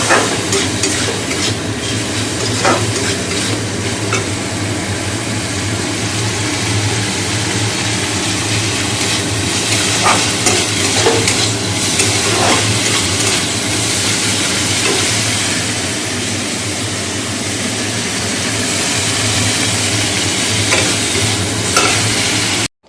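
Fish masala being stirred and fried in a pan in a home kitchen, a steady loud sizzle running throughout with scraping stir strokes, close and continuous, and a low hum underneath.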